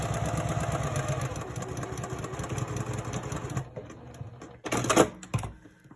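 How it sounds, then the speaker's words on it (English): A sewing machine runs a steady, fast mechanical whir while stitching a 1/4 inch seam in fabric for a scrunchie. It stops partway through, and a few short clunks and handling noises follow. "So I'm gonna go ahead and sew that."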